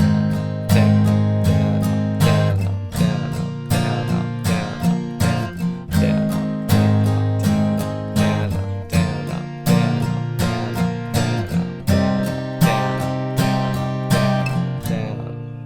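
Acoustic guitar strums an easy version of a song's bridge in a steady down-up pattern, with bright, even strokes that are close and loud, played alone without voice.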